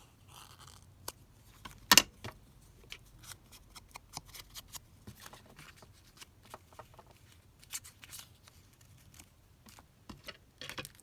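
Scissors trim paper at a desk: soft, faint snips and rustles, with one sharper crisp cut near the start, quiet and close, without speech.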